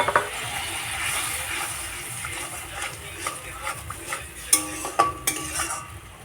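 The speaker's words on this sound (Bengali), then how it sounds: "একটু জল দিয়ে কষিয়ে নেব মশলাগুলো।" Spices sautéed with a little water in a metal pan, a low bubbling hiss under repeated clinks and scrapes of a spoon against the pan, growing sharper toward the end, close and alone.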